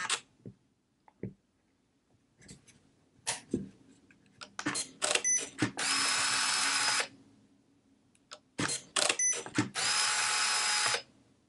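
A Fuji GA645Zi medium format camera switching on: scattered clicks and small mechanical ticks, then two long whirring motor bursts, each about a second, close and fairly quiet.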